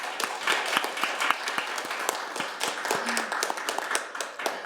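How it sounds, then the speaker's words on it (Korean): An audience at a debate event claps steadily for the panelists, a dense, even patter of many hands that holds for several seconds without talk over it. "그러면 수고해 주신 세 분께 다시 한번 큰 박수 좀 부탁드리겠습니다."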